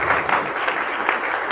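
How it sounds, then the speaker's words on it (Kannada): An audience applauding at a music school program in Bagalkot, a short burst of dense clapping that holds steady at a fairly loud level. "ಚಪ್ಪಾಳೆ ಹೊಡ್ರಿಪ್ಪ."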